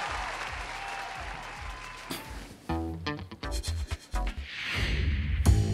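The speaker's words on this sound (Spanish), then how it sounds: "nuestro público te da un aplauso, un agradecimiento" A studio audience on a television show gives a dense wash of applause for about two seconds, then music with tonal, pulsing sounds takes over and a burst of noise swells again near the end.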